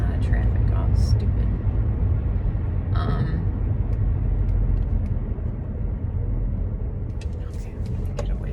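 Road traffic rumbles past continuously in dusty, sandstorm-like conditions, a dense low roar of cars near the roadside with occasional faint higher noises over it.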